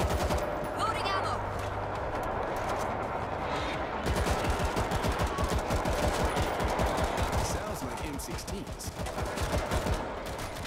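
Rapid automatic gunfire rattles in dense bursts during a World War Z zombie shooter match in a New York subway, close and loud, with heavier stretches of fire, under game chatter and voices.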